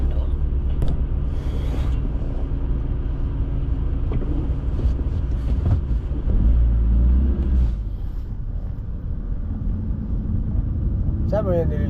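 Night road traffic on Shamal Road in Doha, Qatar, heard as a steady, loud low rumble of passing cars and engines throughout, with a swell of heavier vehicle noise midway and people talking over it.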